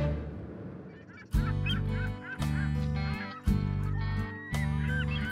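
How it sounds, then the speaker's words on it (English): A flock of seagulls calls over coastal waters off the Norwegian islands: loud, harsh honking cries repeat in quick overlapping bursts, close by and with no talk. "Flocks of seagulls are a common sight in these coastal waters."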